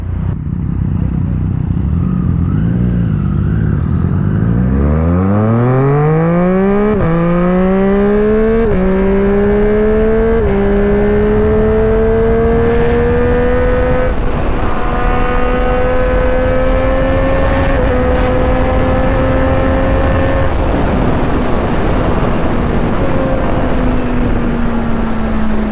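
Naked sport superbikes, a Kawasaki Z1000, Yamaha MT-09 and Triumph Street Triple, accelerating hard in a drag race, engines loud and close as they rev up through several gear changes, steady rising roar with no talking.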